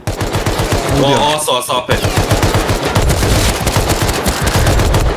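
Loud, rapid automatic gunfire rattles almost without pause in a video game shootout, with a player's voice cutting in briefly near the start.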